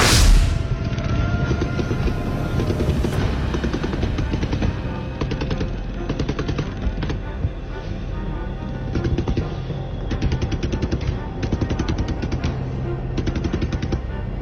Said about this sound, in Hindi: मुकाम में शदीद फायरिंग स्टार्ट है। सामने आप देख सकते हैं।